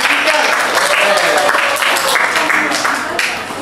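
Students in a classroom clap together in steady, dense applause that fades slightly toward the end.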